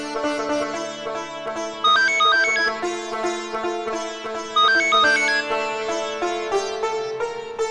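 A mobile phone rings with a melodic electronic ringtone, a bright repeating tune played loudly and alone, with no talking over it.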